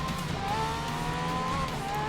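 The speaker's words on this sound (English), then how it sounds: "I heard a lot of tyres squealing behind me." Car tyres squealing through a corner in the racing game Grid Legends, a thin sustained whine riding over the engine drone, moderately quiet and continuous for a couple of seconds.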